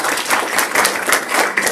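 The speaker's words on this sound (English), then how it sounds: "let's give a little applause for Kathy" A congregation claps together at a Sunday church service, a steady, moderately loud spread of hand claps filling the room without a break.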